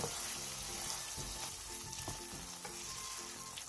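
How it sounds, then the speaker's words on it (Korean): A Korean side dish bubbles and sizzles in a pot as it reduces over medium-low heat, a steady close crackling simmer with soft intermittent stirring and clinking. "물이 바글바글 끓어오르면 중약불로 줄여 20분 정도 자작하게 졸여주세요"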